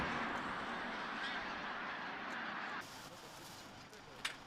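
Wintering ducks and geese gather in large flocks at Cheonsu Bay, a migratory bird haven in Korea. Faint, distant quacks and honks blend into a soft, continuous wash of calls, and one brief sharper call comes near the end.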